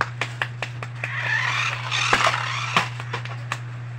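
A monster truck being played with makes revving engine and skidding noises over a steady low hum, with sharp clicks and knocks scattered throughout.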